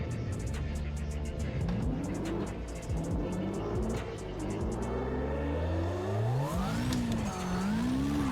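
A car engine in a sim racing game revs hard and swings up and down in pitch as the car spins out during clutch kicks, loud and continuous throughout.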